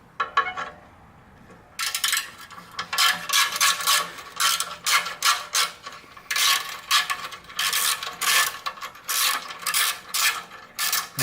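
A ratchet wrench clicks in quick repeated bursts while loosening the exhaust clamp bolt on a Yamaha YZF-R during fitting of a Danmoto exhaust, with short pauses between runs of metallic ticking and no talking.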